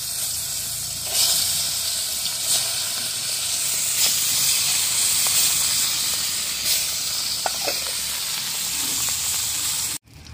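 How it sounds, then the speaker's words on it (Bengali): Fish frying in hot oil for a Bengali home-cooked dish, a steady crackling sizzle with scattered pops and spits that continues evenly for about ten seconds before ending abruptly. "এবার মাছগুলো ভেজে নেব।"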